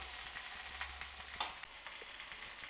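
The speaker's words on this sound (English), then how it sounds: "we're going to fry these in some olive oil until they brown on both sides" Aubergine slices fry in olive oil in a pan for moussaka, giving a close, soft, steady crackle and sizzle with a few sharper pops and a faint low hum beneath, no voices.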